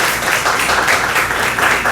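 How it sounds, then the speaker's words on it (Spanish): An audience at a school-for-parents talk gives the guest a brief, loud burst of sustained applause, with many hands clapping together and no gaps. "Un fuerte aplauso, por favor, para nuestro invitado que está en el día de hoy"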